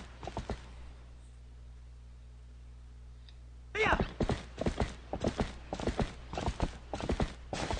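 Epona, the horse in Zelda: Twilight Princess, gallops with rapid rhythmic hoofbeats. A few hoof clops come first, then a quiet gap, then loud, steady galloping fills the rest.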